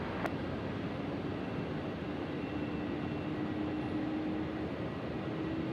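A Cathay Pacific jet takes off from runway 34 left at Sydney Airport, a steady broadband roar with a low hum that holds evenly throughout and never fades.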